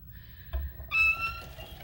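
Squeaking ATG adhesive tape gun used for scrapbooking, a short thin squeal followed by a louder high whining squeak, close and brief, with no talking.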